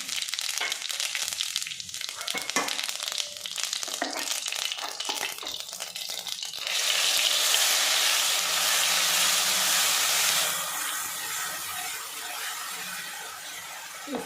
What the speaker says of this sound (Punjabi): ਪਹਿਲਾਂ ਅਸੀਂ ਜੀਰਾ ਪਾਵਾਂਗੇ